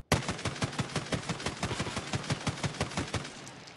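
Sustained full-auto spray from a rifle in Escape from Tarkov, around thirty rapid, evenly spaced shots fired in a steady burst, loud and close, with no voices.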